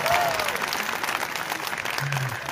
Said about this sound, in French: Applaudissez-moi pour vous.